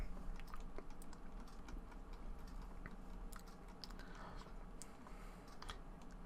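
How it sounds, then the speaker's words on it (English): Fast, light keyboard typing, a scattered stream of soft clicks heard under a constant low hum of room ambience, with no voices. "when he's finished typing all the stuff out"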